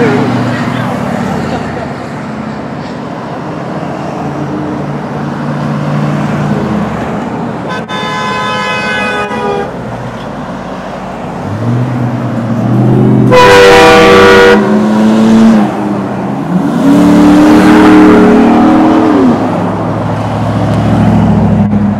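Trucks rolling past on a road during a Hawaii truck cruise, engines droning nearby while horns toot in two bursts, one short and one long, and a revving engine sweeps past near the end.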